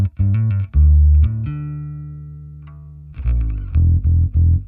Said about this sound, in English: that is the clean tone of just the bass and the amp sim